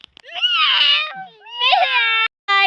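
A person mimics a cat's meow in several drawn-out, wavering cries, close and fairly loud, with a short gap before a final clipped meow.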